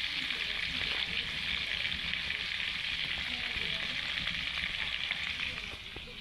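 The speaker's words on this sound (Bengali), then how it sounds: "কই মাছটা আগে ভাজি করে ফেলবো" Koi fish, rubbed with salt and turmeric, fry in a pan with a loud, continuous close-up sizzle and crackle that holds steady before easing slightly at the end.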